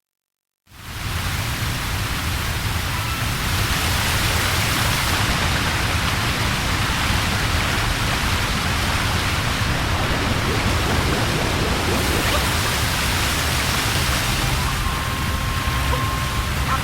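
A waterfall in the Cascade Kingdom of Super Mario Odyssey roars in a dense, constant rush that starts suddenly after a short silence and holds steady and loud, with a faint tonal hum near the end.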